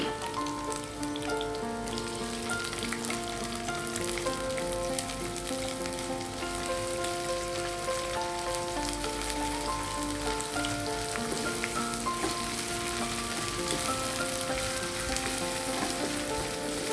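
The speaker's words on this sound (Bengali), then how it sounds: "এখন তেলটা গরম হয়ে আসছে, এখন দিয়ে দিব 1/2 কাপ পরিমাণ পেঁয়াজ কুচি।" Half a cup of chopped onions fries in hot oil in a pan, giving a dense, continuous crackling sizzle at a steady level throughout with no talking.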